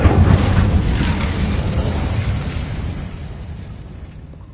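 A fire spell bursts in the Hogwarts Legacy video game with a loud, deep whooshing blast at the start that rolls into a long crackling, rumbling tail and slowly fades out.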